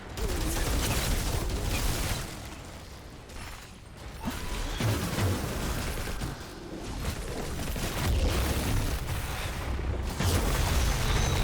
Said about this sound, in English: Loot explosion.